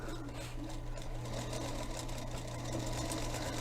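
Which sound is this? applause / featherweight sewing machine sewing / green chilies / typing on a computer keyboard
featherweight sewing machine sewing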